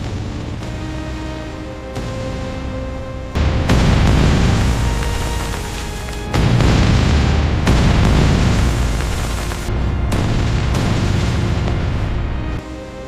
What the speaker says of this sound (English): and the bombs were dropped.